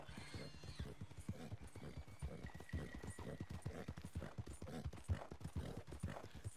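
Horse hooves galloping in Red Dead Redemption 2, a steady rapid rhythm of clip-clop hoofbeats that runs throughout, with game ambience and a faint tone in the background.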